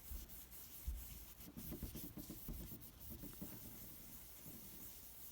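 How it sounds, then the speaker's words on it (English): Rag buffing a clear plastic coin slab during repair, a steady soft rubbing and scuffing with repeated strokes, close and fairly quiet, with no talking. "once you are satisfied with the job you have done buffing this, just give it a few more"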